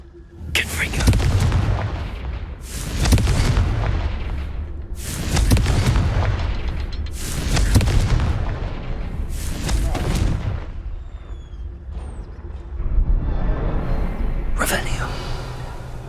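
Confringo fire-spell blasts in Hogwarts Legacy: five heavy, booming explosions roughly two seconds apart, then a sixth after a pause, loud and close, with game sounds between them.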